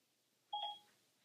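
A phone gives a single short two-tone electronic beep, clear and close, as a voice assistant places a call; the tone stops after a fraction of a second over a quiet background.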